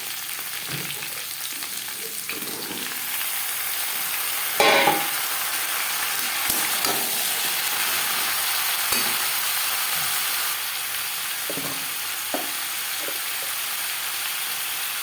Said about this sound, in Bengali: আলুর সাথে পটল বেশ ভালো করে মিক্স করে দেবো।